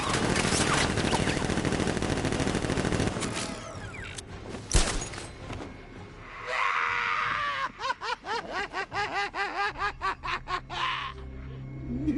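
Guards open fire in the Arkham Knight video game: a dense, loud barrage of rapid gunfire fills the first few seconds, followed by scattered hits and a run of rhythmic, chirping bursts.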